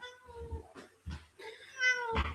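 A house cat meows several times in a row, close and fairly loud, with drawn-out, wavering calls separated by short pauses in a quiet room.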